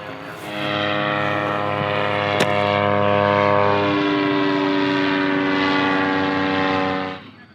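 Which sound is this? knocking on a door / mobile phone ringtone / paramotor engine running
paramotor engine running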